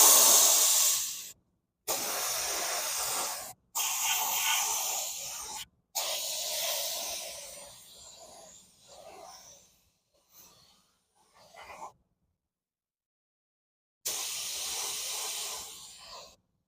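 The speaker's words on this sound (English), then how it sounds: "now we'll go ahead and clear coat" Clear coat sprayed from a spray gun onto a scratched Buick Encore wheel rim over Sonic Carbon paint: several close, steady hissing bursts broken by short pauses, then a longer silence before one last burst.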